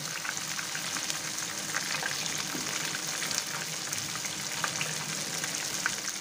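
Chicken balls deep-frying in hot oil, a steady dense sizzle with crackling bubbles running evenly throughout, close and alone with no talk.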